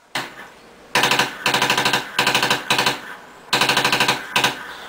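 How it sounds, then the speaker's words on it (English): A machine gun sound effect fires in rapid bursts of crackling shots, several separate volleys with short gaps between them, loud and close with no voices. "that's machine gun, right? That's machine gun."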